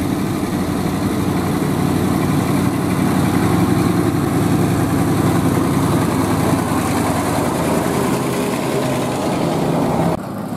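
Pancasena tronton dump truck idles with a steady low diesel rumble and a continuous mechanical clatter, loud and close throughout, with no talk.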